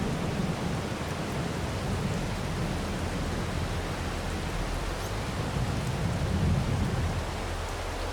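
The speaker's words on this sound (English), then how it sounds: "it started to rain" Steady rain falls in the farming game Farming Simulator 22 at Elm Creek, an even hiss of drops across the whole stretch with a low rumbling undertone, no voices.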